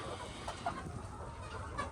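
A layer hen clucks on a farm, a few soft, short clucks over a low, steady background hum, close but quiet, lasting only a moment.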